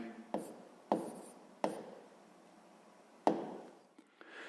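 Pen strokes scratch across paper while math is written out, several short firm marks with gaps between them, close and clear, with a person speaking at times.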